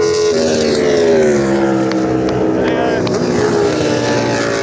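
Aprilia MotoGP racing motorcycles howl past at a race, a loud, sustained engine whine with pitch sweeping down as they go by, close and dominating.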